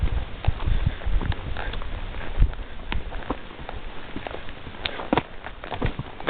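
A horse walks a Colorado wilderness trail with hooves clip-clopping in an irregular rhythm, mixed with rustling and tack creaks, close and moderately loud.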